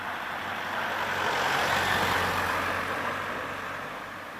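A car rolls slowly past, its broad road and engine noise swelling to a peak midway and then fading, steady and moderately loud with no voices.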